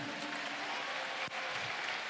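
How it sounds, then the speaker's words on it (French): Steady applause from an audience at a cesta punta final, a dense even wash of clapping heard alone and fairly loud throughout. "Allez, bravo, vous pouvez vous applaudir."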